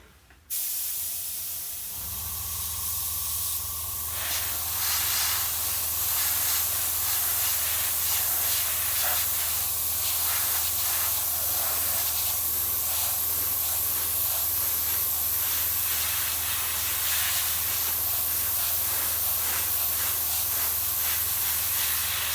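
A steady, close Tamiya surface primer spray can hisses continuously for many seconds after a brief click while priming a scale model, with no voices.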